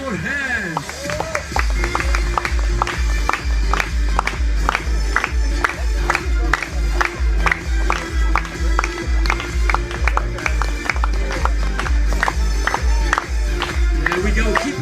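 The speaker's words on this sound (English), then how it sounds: "Everybody, clap your hands." A crowd claps in a steady rhythmic beat throughout a live soccer freestyle show at EPCOT, the loud regular claps running alongside music, with a voice calling out over them.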